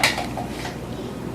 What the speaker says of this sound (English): take part of our mixture, and we're going to spoon it right in the middle